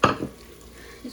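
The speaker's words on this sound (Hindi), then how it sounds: "जो आपके पास बाकी मसाला बचेगा इसमें आपने आलू डाल के भून लेने हैं" Small cut potato pieces stir-fried in leftover masala for aloo chicken salan, giving a short clatter of utensil against pan at the start, then a quieter stretch and another brief scrape near the end.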